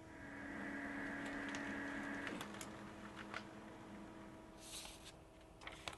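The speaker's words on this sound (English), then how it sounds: "let's see if a page is generated and sent to the printer" LaserMPrints Go UNO color laser printer running a test page: a steady mechanical whir with a tonal hum for a couple of seconds, then softer feed clicks and clunks, quiet and nearby.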